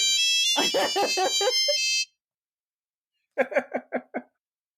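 A bright electronic phone ringtone on a podcast plays a rapid run of tones for about two seconds, then after a pause a shorter burst of five quick chirping notes.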